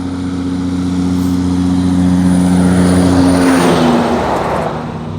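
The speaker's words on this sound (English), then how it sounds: "Just wait up, there's a truck coming. It'll make a bit of noise." A truck rolls past close by on the Newlands Line, its loud, steady engine drone with a low rumble swelling and then easing.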